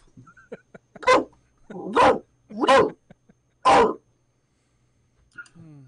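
A voice imitates a French bulldog barking, giving four short, gruff woofs close to the microphone with small mouth sounds between them.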